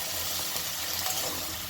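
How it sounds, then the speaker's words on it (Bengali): Small splash of water rinsed from a spice bowl poured into a cooking pot of labra, a brief continuous gushing trickle heard up close with no voices. "মশলার বাটি ধোয়া সামান্য একটু জলও আমি এর মধ্যে দিয়ে দিলাম।"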